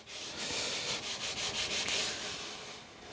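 A smooth plywood piece rubbed back and forth along freshly applied edge tape, several quick scraping strokes in a rhythmic run, close and fairly loud with no talking.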